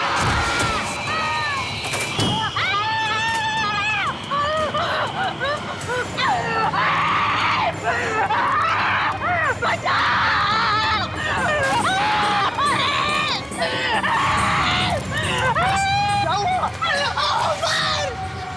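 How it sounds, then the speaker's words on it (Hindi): Frightened screams and shouting from several people in a Hindi horror drama episode, loud and continuous, with overlapping voices and a dense babble of alarmed talk throughout. "क्यों चिल्ला रहे हो?"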